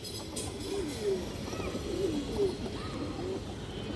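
A pair of red chulli pigeons of an old breed coo in repeated soft, throaty calls close by, over a steady background hum.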